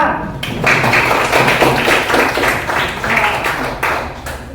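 Eighth-grade classroom of students clapping on cue, a burst of rhythmic group clapping and tapping, close and fairly loud, with voices mixed in.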